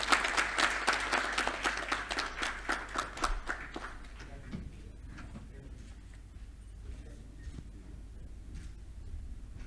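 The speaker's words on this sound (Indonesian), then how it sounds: "Sekali lagi mari berikan tepuk tangan yang meriah." Audience applause at an academic degree ceremony, loud dense clapping for the first four seconds that quickly fades to scattered claps and room noise with faint voices.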